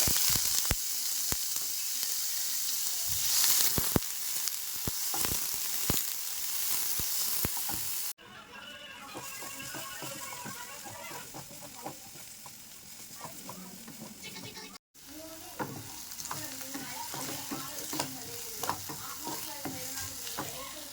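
Crushed ginger and small shallots fry in hot coconut oil with a loud, steady sizzle and occasional stirring clatter, the sound shifting in level across two abrupt cuts.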